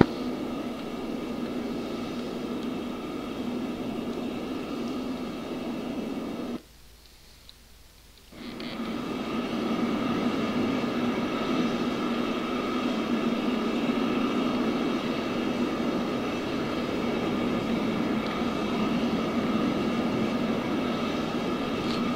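An aircraft engine droning steadily in the DCS flight simulator, loud and continuous, cutting out briefly once before resuming at a slightly higher level, with no voices.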